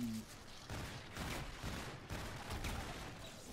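Rapid gunfire in the Infinite Warfare zombies game rattles in quick overlapping bursts, dense and sustained across the moment, fairly faint in the mix, with a brief voice at the start.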